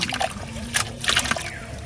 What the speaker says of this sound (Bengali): এখন ভালো করে পানিতে আরেকবার ধুয়ে নিতেছি